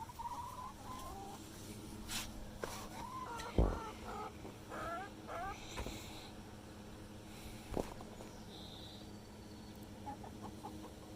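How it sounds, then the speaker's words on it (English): Backyard chickens cluck quietly in a garden. Soft scattered clucks and short calls sit over a steady low background murmur, with a few sharp bumps and knocks in between. "What are you doing, chicken?"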